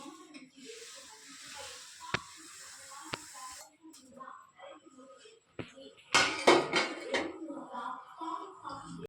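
Sugar goes into a pot of pumpkin and sago kheer and is stirred: a steady simmering hiss with a few sharp clinks, then a louder burst of gritty pouring and scraping near the end.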